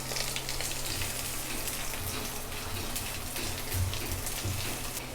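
Chopped onion, green chilli and garlic fry with five-spice in hot mustard oil, giving a steady, soft sizzle with occasional crackles and no talking.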